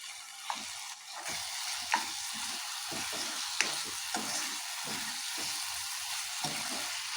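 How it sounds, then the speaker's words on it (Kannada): Butter sizzling steadily in a pan of mushroom masala, a dense continuous fry hiss close to the mic with a few soft clicks of stirring and no talk. "ಒಂದು ಸ್ವಲ್ಪ ಬೆಣ್ಣೆ ಹಾಕ್ತಾಯಿದ್ದೀನಿ"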